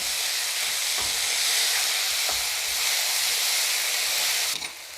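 Liver fry for a Kuttanad toddy-shop style dish sizzles loudly in a pan while being stirred, a dense continuous hiss with a couple of faint scraping knocks, easing off right at the end.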